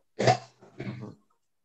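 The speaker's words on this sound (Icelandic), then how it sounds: "Ég heyri hér hósta." Someone coughs on an open microphone during an online discussion: two close, distinct cough bursts, the first louder and the second weaker, followed by silence.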